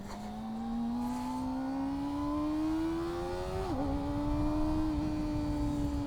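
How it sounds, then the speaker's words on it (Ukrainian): A motorcycle accelerates along a riverside embankment road during a motorcyclists' meet. Its engine whine climbs steadily, drops briefly at a gear change, then pulls on again. The sound is continuous and moderately close, with no voices. "От і Дімка їде. О, навалює."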